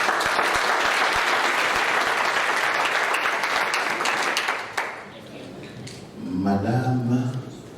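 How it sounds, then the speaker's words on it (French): Wedding guests at a civil ceremony applaud the newly married couple with sharp, loud clapping that fades out, followed by a voice speaking near the end. "Merci d'applaudir pour le couple."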